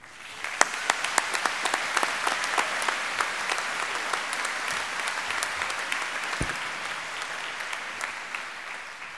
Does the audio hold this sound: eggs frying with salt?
no